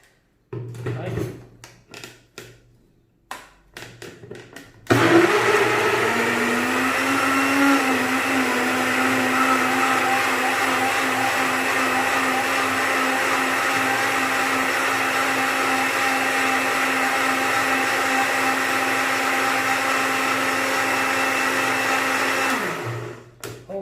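A blender runs loud and steady for about twenty seconds, whirring through melon and spinach to make a green juice, after a few seconds of quiet handling noises and a short spin-down at the end.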